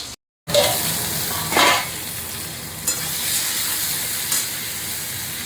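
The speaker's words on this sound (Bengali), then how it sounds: "মাছ ভাজা হচ্ছে" Fish frying in hot oil in a home kitchen, a steady close sizzle with a few louder bursts of spattering, heard alone without talk.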